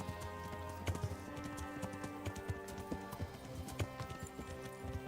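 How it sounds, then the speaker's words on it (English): Horse hooves clip-clop steadily in the medieval video game Kingdom Come: Deliverance, a brisk rhythmic beat of hoof strikes over a constant background music bed, no talking. "your horse needs to be faster"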